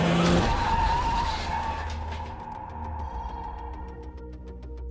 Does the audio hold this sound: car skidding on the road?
yes